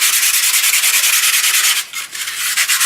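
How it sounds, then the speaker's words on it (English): Steady, loud sanding rasps across a textured surface in quick, even back-and-forth strokes, with a brief lull near the end before the rubbing resumes, and no voices. "So I'm going to sand this down."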